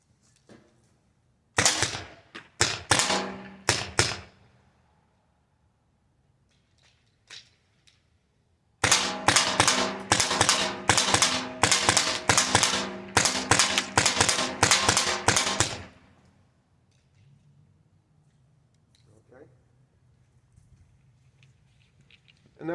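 A Byrna Mission 4 non-lethal launcher fires on an outdoor range: two clusters of sharp, rapid, loud pops, a short burst and then a longer volley, with quiet gaps between them.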